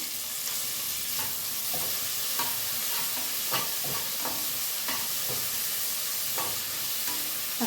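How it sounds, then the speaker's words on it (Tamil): Tomatoes and onion sautéing in a pan for a kodo millet sambar rice, with a steady frying sizzle and a scatter of spoon scrapes and stirring taps throughout. "தக்காளி லைட்டாக வதங்கட்டும்"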